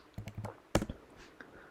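Fingers tap a computer keyboard in a quick run of about half a dozen close clicks, with a few softer keystrokes trailing after.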